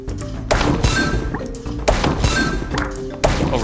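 Balls bursting in the puzzle game Zuma's Revenge, three loud thunking explosions spaced about a second and a half apart over steady game music.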